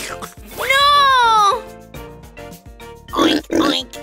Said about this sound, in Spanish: ¡Este es el sonido de un cerdo!